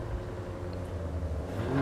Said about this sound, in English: 530 horsepower twin turbo V6. Yes, the Nettuno engine inherited from the MC20